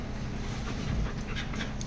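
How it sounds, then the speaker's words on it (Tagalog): A dog pants rapidly and heavily close up, a continuous breathy rhythm with a faint whine near the middle. "Paula, malaking aso ka."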